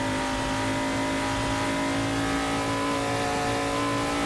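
A Ford XA Falcon race car is revved hard on a flying lap of Bathurst, its loud, steady high-rpm engine drone holding strong and close throughout, with no talking.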